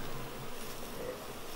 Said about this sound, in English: we try to pick the youngest looking bees possible